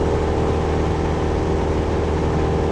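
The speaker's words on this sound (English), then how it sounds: "And again, I'm sorry the engine noise level." Cessna 172 SP Skyhawk engine in the Aerofly FS 4 flight simulator, flying the pattern at Lausanne Blécherette, a loud, constant droning hum that holds steady throughout with no talking over it.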